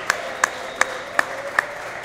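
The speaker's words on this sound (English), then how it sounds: "I totally started that applause." Five evenly spaced, sharp single hand claps, a slow clap rhythm from one nearby person over a quiet steady background at a wrestling event.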